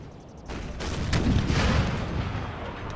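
Cannon fire in the video game Napoleon: Total War, a heavy rumbling boom with overlapping distant blasts and a sustained roar of battle, loud and dense throughout.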